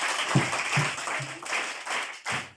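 A group of children at a Bible class clap and applaud in short bursts, with uneven rhythm and a few louder claps standing out, close and lively.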